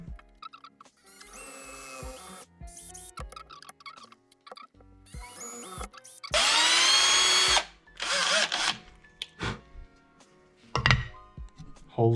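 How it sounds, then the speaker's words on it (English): A handheld power drill bores holes in repeated bursts, with one long loud run of the motor and several shorter whirring spurts between quieter handling knocks and pauses. "So I got all my holes drilled."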